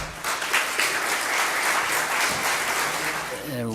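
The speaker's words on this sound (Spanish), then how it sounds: "Recibamos con fuertes aplausos" An audience breaks into loud, sustained applause, a dense wash of clapping that holds steady and begins tapering off at the end.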